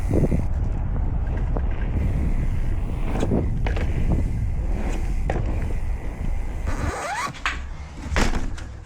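A mountain bike fitted with a coil rear shock rolls over rough trail, with continuous rattles, thumps and tire noise beneath heavy wind buffeting on the microphone, and no talk.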